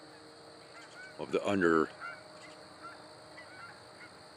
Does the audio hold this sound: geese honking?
yes